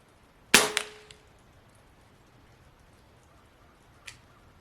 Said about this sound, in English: I'm going to go ahead and shoot this group for the 0.